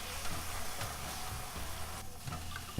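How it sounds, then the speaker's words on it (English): Garlic sizzles and fries in a pan for Cajun shrimp pasta, a steady soft crackle with a few faint stirring scrapes and a louder clatter at the very end. "now I want to go ahead and add our 2 nice big teaspoons of garlic"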